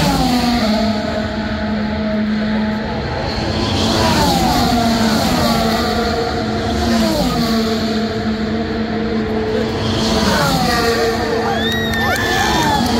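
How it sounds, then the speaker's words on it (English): Crowd at a Formula 1 car race screaming and cheering in waves, with race cars roaring past under the noise and swelling and fading as they go by. "Everyone's screaming for Charles."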